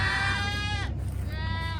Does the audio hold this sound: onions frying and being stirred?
no